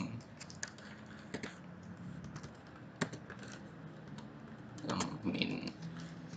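Computer keyboard typing while entering a command during a networking lab on HTTP and HTTPS traffic; fairly quiet, close key clicks in irregular bursts with a denser flurry near the end.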